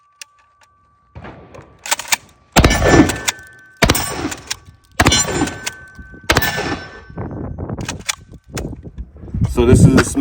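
A Smith and Wesson MP12 shotgun fires buckshot at steel targets outdoors, several loud close blasts in irregular succession, each followed by ringing metallic pings and brief echo.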